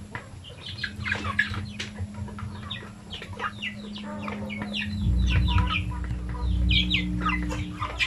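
Native chickens kept in a confined pen cluck and chatter in overlapping calls, close by, over a steady low hum that grows louder partway through.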